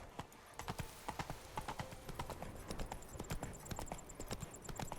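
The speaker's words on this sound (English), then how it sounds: "Roach, I know you're nearby. I can hear you and smell you. There you are. Such a good horse" Roach the horse trotting in Witcher 3, steady clip-clop hoofbeats in a quick, even rhythm, moderately close and continuous throughout with no talking.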